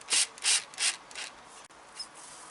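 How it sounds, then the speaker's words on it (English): Screw being driven into a wooden log for a Christmas reindeer craft: three or four short, loud rasping bursts, then quieter scraping and a faint click, close up with no talk. "Don't drive that screw in too hard, or otherwise this wood is going to split."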